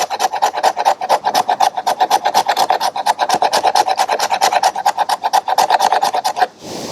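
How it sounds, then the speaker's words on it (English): A Smith & Wesson Tanto tactical knife's spine scraping fatwood in rapid, rhythmic rasping strokes, loud and close, repeating steadily for several seconds before stopping. "Let's just see how well the spine scrapes, if it'll scrape any of this stuff here"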